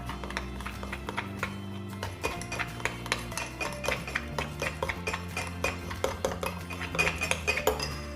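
A spoon clinks and taps repeatedly against a glass while stirring a Nesvita drink mixed with matcha, the clatter irregular and close, running throughout with a brief pause.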